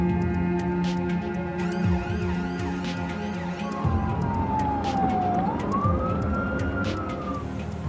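Ambulance siren sweeping up and down over steady road traffic noise, a wailing tone rising and falling across the middle of the clip while engine rumble continues underneath.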